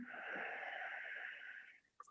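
A yoga instructor during a yin session breathes out in one long, slow, airy exhale that fades away near the end, followed by a faint click.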